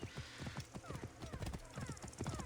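Horse hooves clip-clop at a steady, quick rhythm in Assassin's Creed Origins, a video game set in ancient Egypt. The hoofbeats are close and fairly loud, and a brief whinny may sound among them.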